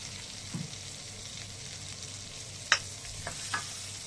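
Butter sizzling on a hot tawa while masala chicken fry is cooked, a quiet steady frying hiss broken by a few sharp clinks and scrapes.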